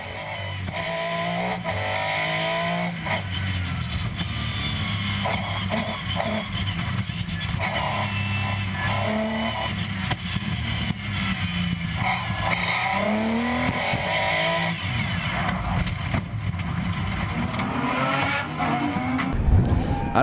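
Onboard a Peugeot 207 rallycross car at a hectic race start, the engine roars continuously near and loud, revs rising and falling through gear changes, with tire squeal and skidding over loose surface.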